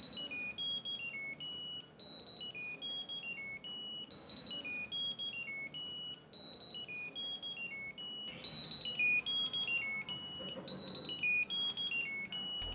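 A Jio Tag Go tracker buzzer ringing: a repeating electronic melody of high, bright beeping tones in short phrases, looping steadily at close range with no talk.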